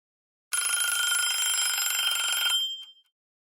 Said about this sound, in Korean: 전화기에서 갑자기 벨소리가 울렸다